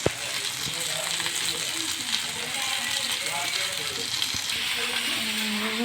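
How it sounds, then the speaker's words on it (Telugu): Masala-coated fish fries in a thin layer of oil, giving a steady close sizzle and crackle throughout with occasional sharp pops and scraping clicks. "ఆయిల్ చల్లకుండా కొద్ది కొద్దిగా ఆయిల్ తీసుకొని కాల్చుకోవడం అండి ఈజీగా కాలిపోతుంది"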